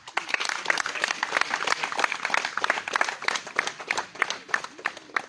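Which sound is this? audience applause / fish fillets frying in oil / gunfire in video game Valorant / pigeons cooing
audience applause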